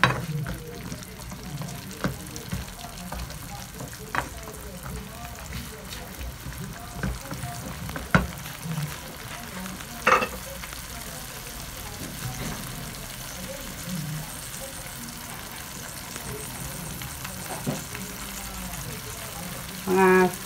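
String beans and beef cook together in a pan with a steady low sizzle and bubbling, broken by occasional clinks and scrapes of stirring over about twenty seconds.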